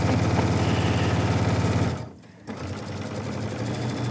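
A sewing machine stitches a quarter-inch seam on a ruffled zipper pouch, a steady close rapid whir that briefly stops mid-clip, then resumes.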